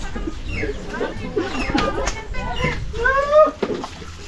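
Chickens cluck close by in a series of short, rising squawks and clucks, with one louder burst near the end, mixed with background voices and activity.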